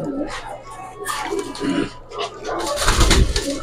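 Giribaz pigeons coo in low, rolling bursts close by, with splashing or rustling noise building toward the end.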